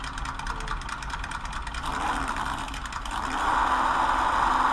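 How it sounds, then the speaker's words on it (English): A scale model car with a V8-style engine sound, a close mechanical whirring hum with a fine rapid ticking texture that rises in pitch and intensity toward the end. "Sounds like a V8."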